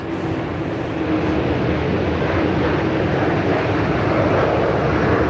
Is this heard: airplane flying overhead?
yes